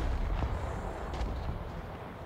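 A T-72A TURMS-T tank firing in War Thunder, heard as a short, muffled low boom with a rumbling tail, fairly faint and alone.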